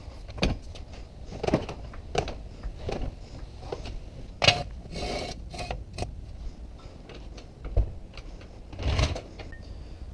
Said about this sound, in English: Let's raise the vehicle.